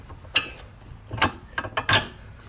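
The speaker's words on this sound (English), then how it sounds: "Let's go ahead and put the safety pin in." Several short metallic clicks and scrapes as a safety pin is pushed into the hitch of a folding stand-up motorcycle trailer, irregular and close, with no voices.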